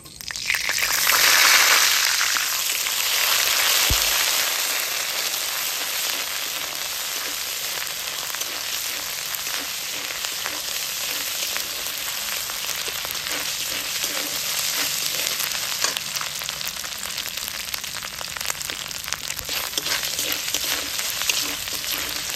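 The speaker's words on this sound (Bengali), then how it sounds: "আদা রসুনটা বেশ ভালোভাবে ভাজা ভাজা হয়ে গেছে।" Ginger-garlic paste sizzles and crackles steadily in hot oil while cooking moong dal with fish head, a loud continuous frying hiss that carries on throughout.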